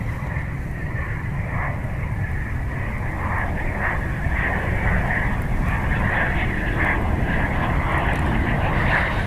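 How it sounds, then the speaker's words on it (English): A Hawker business jet arrives at Cleveland Hopkins airport with a steady engine roar and whine, continuous and moderately loud over a windy outdoor background. "Got a Hawker inbound from Youngstown."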